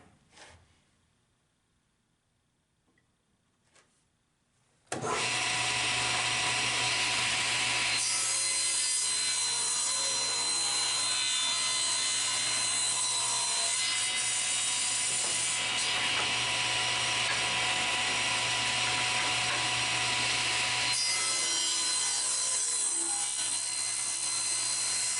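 A table saw runs loud and steady, its blade whining as it cuts wood into molding, after a few seconds of quiet handling noises.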